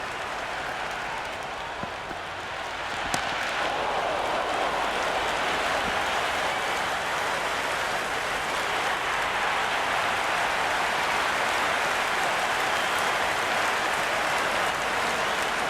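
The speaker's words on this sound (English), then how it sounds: "It's evident and ever so audible that the crowd is at near bursting point at today's play" A large stadium crowd in the Cricket 26 video game roars in a sustained, even wash of cheering and applause, steady and loud for the whole stretch with a brief quieter moment near the start.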